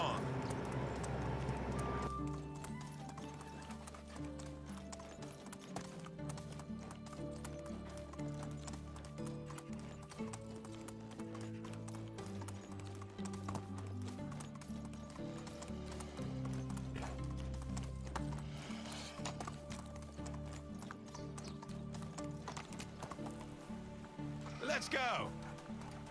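Donkey hooves clip-clop steadily through a Medieval Dynasty game scene, a continuous rhythmic patter under game music, with a short bray-like call near the end.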